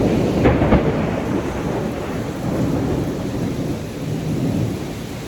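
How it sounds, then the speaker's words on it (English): A loud crack of thunder breaks early over a steady wash of heavy rain, with the downpour carrying on at an even roar afterward. "Am I the only one that loves a nice thunderstorm?"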